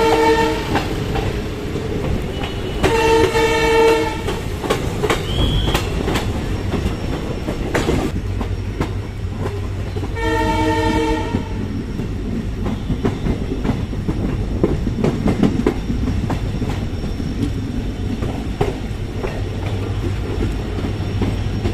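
A train running between Dibrugarh and Ledo in Assam rumbles steadily, with the horn sounding twice and a continuous rushing noise that may include heavy rain.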